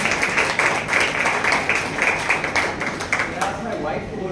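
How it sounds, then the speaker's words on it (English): An audience at a club author chat in New Delhi applauds, a dense steady patter of clapping close by filling the whole stretch. "A big round of applause for him."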